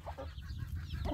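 A large chicken of about 3 kilos clucks softly and close by on a farm in Hail, Saudi Arabia, low murmuring sounds over a quiet outdoor background.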